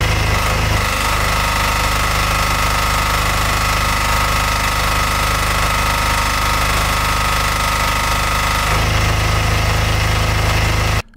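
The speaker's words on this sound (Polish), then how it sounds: "Teraz dla porównania możecie posłuchać, jak pracuje pod spawarką, która daje dużo wyższe obciążenie i nic się nie wyłącza." A Proton 360 Plus generator runs under the heavy load of an Ideal Expert 220 PFC welder, a loud, steady, close engine drone with a rough, vibrating texture that shifts slightly in tone near the end.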